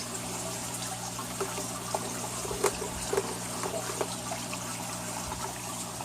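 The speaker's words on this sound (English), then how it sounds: "Water's running." Water trickles steadily through a Penn Plax Cascade 1000 aquarium canister filter after cleaning and a media change, a soft continuous flow with a few faint drips and splashes over a low hum.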